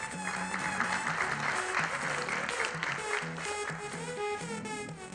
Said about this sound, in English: Please put a huge round of applause for Ms. Charan David.